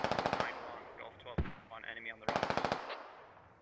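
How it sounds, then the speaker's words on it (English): DShK heavy machine gun fire in the video game Squad, two rapid bursts of shots at the start and the end, with a voice talking in between over a sharp impact. "looks like the Dishka may have moved up a little bit. And it's throwing some long range shells out there"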